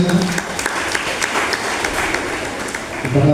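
An audience at a Banten cultural event in Kota Serang breaks into loud, steady applause, with a voice briefly audible at the start and end.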